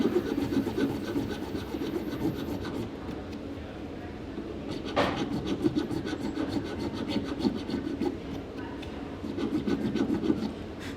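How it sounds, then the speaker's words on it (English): Filing down a wax ring carving for a soft square ring, with steady rhythmic rasping strokes close up, one sharper scrape midway, and a faint trailing hiss at the start. "And then you go to your next side, and you file it down."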